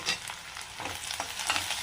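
Chopped onions and curry leaves fry in oil with a soft, continuous sizzle and intermittent stirring scrapes, no voices present.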